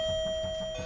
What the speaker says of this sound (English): You actually brought in a doorbell.